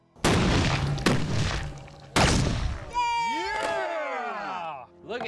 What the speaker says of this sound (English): Fire in the hole! This is Swedish cannon